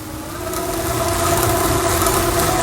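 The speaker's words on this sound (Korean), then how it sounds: "뒤에 모터가 돌아가는 소리가 들리실 거예요." A steady mechanical whir with a constant tonal hum, the rear hub motor of a Modusports E20 electric bicycle spinning continuously and growing slightly louder, with no voices.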